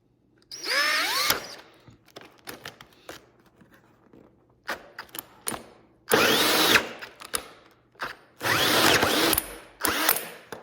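Power drill boring holes through the firewall of a 2023 Can-Am Maverick Sport Max for a heater install, several loud whining bursts separated by pauses and small clicks, close up with no talking.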